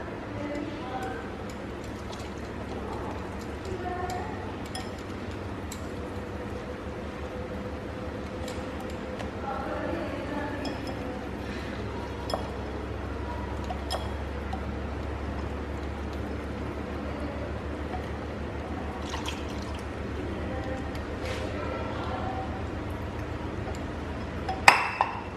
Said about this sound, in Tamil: மிச்சத்தை வந்து இந்த சூடாக இருக்கக்கூடிய நெய்யை வந்து நம்ம இந்த கடலை மாவில் ஊற்றி விஸ்க் பண்ண போகிறோம்.